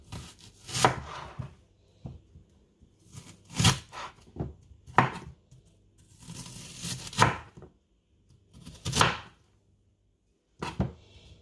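A knife chopping vegetables such as carrot on a board for a roast turkey, with close, crisp chops in irregular clusters separated by quiet pauses.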